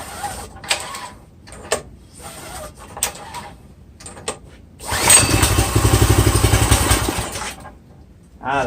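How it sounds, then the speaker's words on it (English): A Harbor Freight 212cc engine fitted to a vintage barn-fresh tiller takes several short recoil pulls, then catches and runs loud and rough for about two seconds before dying, with another brief burst at the very end. "So this is the very first start for this motor, and this is the first time those tines will be turning in 20 to 50 years."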